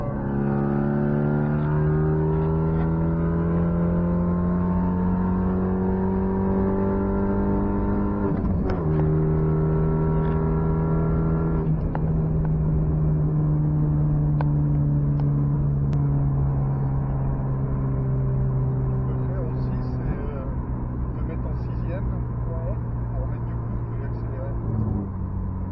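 Car engine fitted with a turbo boost pressure gauge, held at a steady rev that rises gently with a brief throttle blip near the start, a continuous harmonic drone recorded close up from start to finish.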